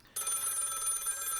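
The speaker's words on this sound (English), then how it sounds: "My rotary phone is ringing." A rotary telephone's bell starts ringing abruptly after a brief quiet, a continuous rapid metallic trill close by that keeps going without pause and sounds alone, with no talking.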